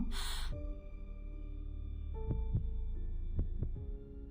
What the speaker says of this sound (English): Her heartbeat quickens in her chest.